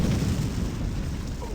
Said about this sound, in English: that's like two barrel explosions